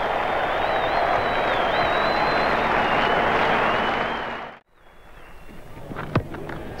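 A large cricket crowd roars at Adelaide Oval to celebrate a 100-run partnership, sending up a loud, sustained wall of cheering that holds for about four seconds before cutting off abruptly. Quieter crowd noise and a sharp knock follow.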